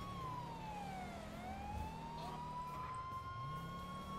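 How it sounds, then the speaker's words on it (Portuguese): A wailing police siren in a video game, GTA 5, sweeps down and back up over a steady engine hum, moderately distant and continuous. "Parece que eu tô ouvindo a sirene ali."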